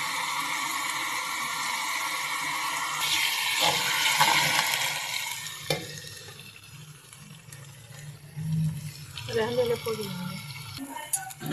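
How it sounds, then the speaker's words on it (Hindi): Onion sizzles and hisses steadily in a hot pan, a constant frying crackle with some clinks of utensils and a voice speaking partway through. "ये देखिए मेरा प्याज फ्राई हो रहा है तकरीबन"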